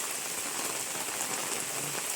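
Heavy rain pours down steadily in a monsoon downpour over a rural village farmstead, a dense, unbroken hiss of drops drumming close by on surfaces with no voices.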